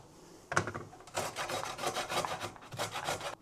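Unpeeled sweet potato rasped against a grater with a base that holds the shreds together, in repeated scraping bursts that start after a brief pause, close and fairly loud.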